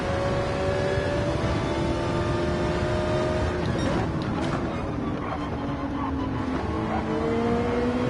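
Ferrari race car engines, an older model and a newer 296, revving and shifting on the Barcelona Catalunya circuit in Gran Turismo 7, a steady loud engine drone with pitch changes through gear shifts.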